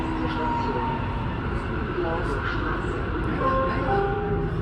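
A U5 U-Bahn train pulling away from a street-level station, steady low rumble and hum of the car with faint tonal whines, under people talking.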